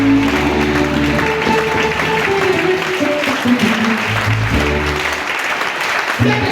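A congregation at a Sunday church service applauds and cheers for the Lord, a dense, steady wall of clapping and crowd noise blended with sustained music for the whole stretch.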